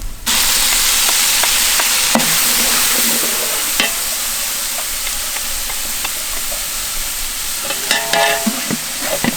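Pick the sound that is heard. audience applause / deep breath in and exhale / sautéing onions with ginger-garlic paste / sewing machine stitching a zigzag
sautéing onions with ginger-garlic paste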